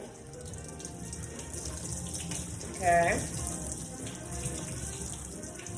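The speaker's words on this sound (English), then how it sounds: "I'm going to pour spring water over it" Spring water poured from a tap over seamoss in a bowl in a sink, a steady low running-water wash with a brief louder splash in the middle, and a voice speaking briefly.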